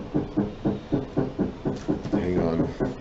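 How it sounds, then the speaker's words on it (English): Rapid knocking on a door, about a dozen quick raps in an even rhythm, close and fairly loud. "someone's here knocking on my door."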